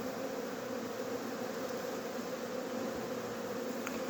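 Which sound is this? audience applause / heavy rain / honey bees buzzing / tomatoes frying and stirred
honey bees buzzing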